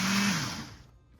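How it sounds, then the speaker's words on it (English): A food processor pulses granulated sugar in one short burst, a loud whirring buzz that spins down and fades within about a second. "process the granulated sugar slightly, about 5 to 7 pulses"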